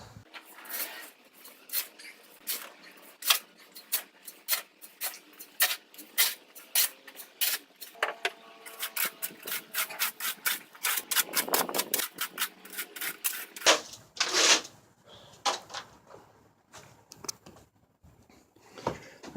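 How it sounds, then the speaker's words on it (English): A hand saw cuts through a tree root, giving a long run of rasping strokes close up, steady at first and then quicker and more crowded. "I'm gonna try to use this saw"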